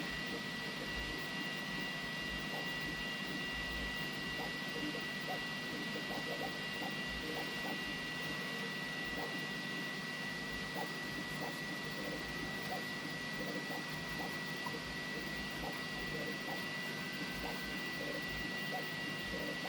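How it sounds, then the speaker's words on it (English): An ELEGOO Neptune 4 Pro 3D printer running a Benchy print, giving a steady mechanical whir with faint repeated stepper ticks, continuous and moderately distant, with no talking. "We're printing a Benchy over there to make sure everything's set right after the updates."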